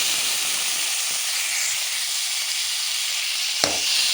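Water poured into a ridge gourd stir-fry makes a pan hiss with a loud, steady sizzle and steam, and a single sharp clack of a utensil comes near the end.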